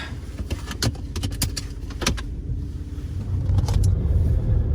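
An old Pontiac G6 engine rumbles steadily with a low drone while driving, building slightly louder toward the end, with a few sharp clicks and rattles from inside the cabin.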